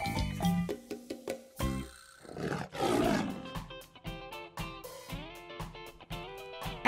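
A lion roars in a children's animal-learning song, a rough growling roar standing out among bright, bouncy musical tones and chimes.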